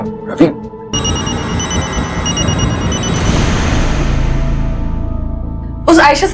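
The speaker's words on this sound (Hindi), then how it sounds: "रवि फोन उठा।" A telephone rings loudly with a repeating trilling tone for a few seconds and then gives way to a noisy wash. Brief voices come at the start and end.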